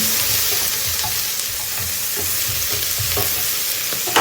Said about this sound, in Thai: หอมใหญ่ค่ะ ตัดหอมใหญ่ให้หอมก่อนนะคะ